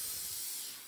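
WD-40 aerosol sprays onto a 1973-1979 Ford truck instrument cluster, a single steady close hiss that fades slightly at the end.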